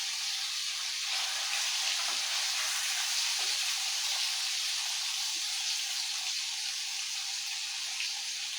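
Paneer pieces frying in a pan give a steady, loud hiss of sizzling oil, a continuous bright crackle with small pops, close and unbroken.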